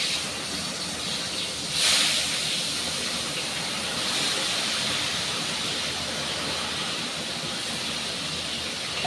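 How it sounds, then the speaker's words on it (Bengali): Catla fish pieces frying in hot oil, a steady broadband sizzle that holds evenly throughout with a brief louder surge near the start, no voices. "তা মাছগুলোকে আমি খুব ভালো করে ভেজে নেবো, একটু লাল লাল করে"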